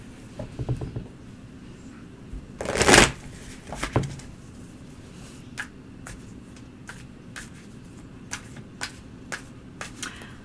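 Tarot cards being shuffled: a loud riffling burst, followed by a run of light, scattered card flicks and taps at an uneven pace.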